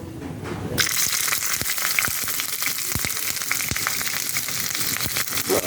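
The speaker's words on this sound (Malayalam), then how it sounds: "ആദ്യം നമുക്ക് ഗീ നന്നായിട്ട് മെൽറ്റ് ചെയ്തിട്ടെടുക്കാം എന്നിട്ട് അതിൽ ചില്ലീസ് ഇടാം" Chillies sizzling in melted ghee for ema datshi, a loud steady frying hiss that bursts in abruptly after a quiet start, with small pops and crackles scattered throughout.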